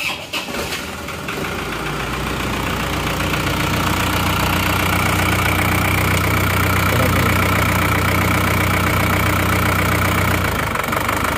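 A car engine that had sat unused for three years cranks briefly and catches, then settles into a steady, close idle with a faint ticking running under the hum until the end.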